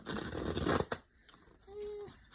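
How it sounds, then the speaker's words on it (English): Quick riffling and flapping of a tarot deck being shuffled, a short burst followed by softer handling noises; fairly quiet. "Let me see if I can shuffle this one."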